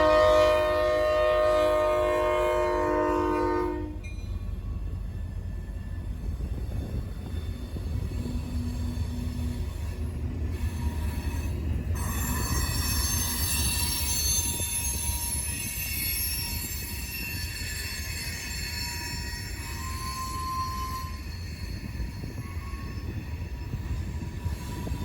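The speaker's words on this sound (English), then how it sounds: "L340 had another nice consist, with a freshly rebuilt Mack leading and an old AC-44 in trail." Freight train L340, led by a freshly rebuilt Mack with an old AC-44 trailing and hauling rock hoppers, passes close by in Fostoria. A brief horn note at the start gives way to a steady rumble, clatter and high wheel squeal.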